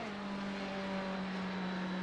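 Race car engine in the iRacing sim at Daytona, heard from outside the car as a steady, sustained drone at constant pitch, not reaching top revs, fairly quiet and continuous throughout.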